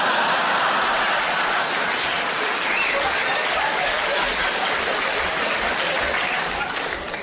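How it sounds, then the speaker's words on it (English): Sustained, loud audience applause fills the whole stretch, a dense wash of many hands clapping without letup. "I don't quite know what that round of applause was for."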